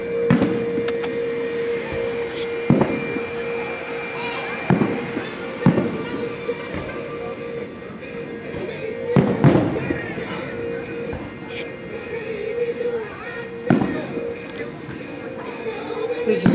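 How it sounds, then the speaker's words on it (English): Booming thuds of fireworks go off at irregular intervals over a steady outdoor background, with a few sharp louder bursts. "the fireworks going off"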